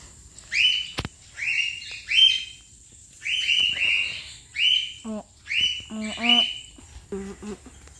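Small wild birds visiting near a homemade bird trap give repeated bright chirping calls in short bursts, fairly close and clear, with quieter trills toward the end and no talking.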